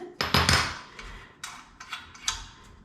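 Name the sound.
line wrench loosening chain nut on Schwinn Air Dyne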